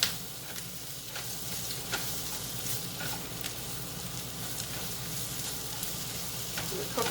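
Chicken for fajitas fries in a pan, with a steady close sizzle throughout and occasional clicks and stirring knocks.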